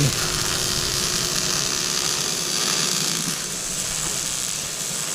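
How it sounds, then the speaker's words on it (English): Arc welding on the blade of a 540B grapple skidder during a refabrication, heard as a steady, close, dense crackling hiss with a faint electrical hum underneath, running unbroken for about five seconds. "Welding away."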